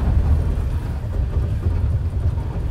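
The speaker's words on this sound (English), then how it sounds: "So that noise is the ABS." Low, steady rumble of a Toyota Tacoma pickup crawling slowly off-road, with a faint pulsing chatter from the ABS working underneath, close and continuous.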